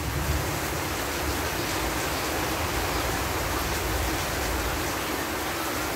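Heavy rain and gusting wind in a thunderstorm over freshly tilled farmland in Tân Phước, a steady, dense roar of broadband noise that stays loud and unbroken throughout, with no voices.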